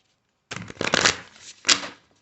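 A deck of self-love oracle cards being shuffled up close, a riffling burst followed by a second shorter flutter, with no talking.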